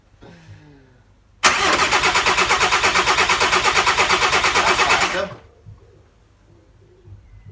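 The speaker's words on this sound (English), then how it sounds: "we're just going to turn the engine over just to try and get some oil circulated first" The starter motor on a VW T4 van with a newly installed engine cranks it over in one long, fast, rhythmic churn of about four seconds, loud and close, then stops. Quieter talk is heard before and after.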